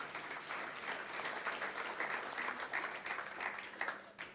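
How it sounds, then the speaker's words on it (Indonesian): Congregation applauding during a church service, a steady wash of many hands clapping at moderate distance, sustained without a break and with no talk over it. "Tepuk tangan untuk Tuhan kita."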